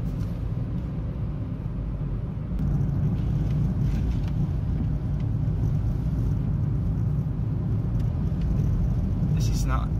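A car drives through a volcanic ash cloud near Sakurajima on Kyushu, Japan, with a steady, close engine and road rumble that holds throughout and grows slightly louder partway in.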